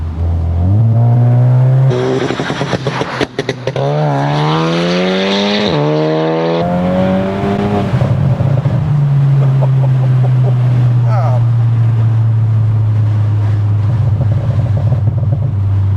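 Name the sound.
loud tuned car exhaust revving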